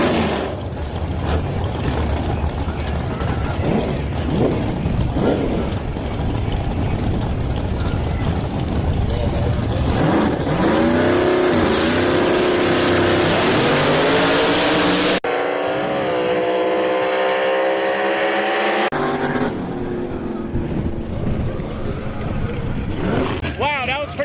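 A Bel Air drag car at a heads-up shootout at Toronto Motorsports Park roars loudly down the track, its engine climbing through rising tones before cutting off and fading, with a commentator talking over the noise.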